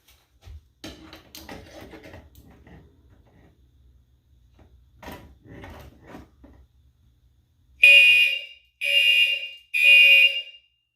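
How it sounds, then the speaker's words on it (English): A fire alarm goes off during a fire alarm system test in a building, sounding three loud shrill pulsing blasts with short gaps between them, after a stretch of quiet footsteps and faint handling noise. "let's test the true alarm in here."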